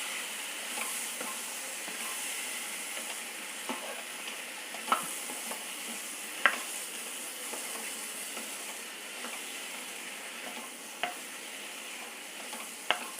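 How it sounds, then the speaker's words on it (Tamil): Drumsticks (moringa pods) sauté in hot oil, giving a steady, soft sizzle with occasional clicks and light stirring knocks throughout, without any talk. "இப்போ இந்த முருங்கைக்காய் போட்டுக்கலாம். முருங்கைக்காவும் அந்த எண்ணெயிலே வதக்கி விடுவோம்."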